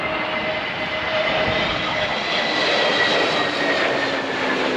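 A passenger airplane's engines roar steadily during a rough landing in stormy wind. The drone is loud, close and unbroken, with no speech.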